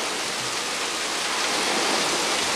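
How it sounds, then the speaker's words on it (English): Steady rain falls in Akumal, Mexico, in 2003, a dense, even hiss of drops on surfaces that continues without a break. "I think it's just wet rain."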